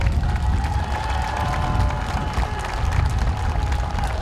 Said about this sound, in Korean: 여러분 큰 박수 저를 위해서 한번 쳐주십시오.